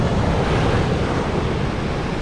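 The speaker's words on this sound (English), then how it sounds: "And it's pretty windy today." Strong wind buffets the microphone on a cold beach during surf fishing, mixed with steady roaring surf, a constant loud wash of noise with no voices.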